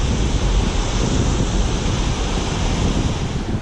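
A waterfall pours into blue cave water, giving a loud, steady broadband roar that holds without a break, close by and with no voices over it.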